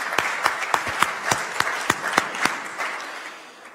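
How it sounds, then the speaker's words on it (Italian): Applause from an audience at a Forza Italia political event in Bari, honouring a politician: a room of steady clapping with sharp individual claps standing out, fading toward the end. "Un applauso ad Elvira."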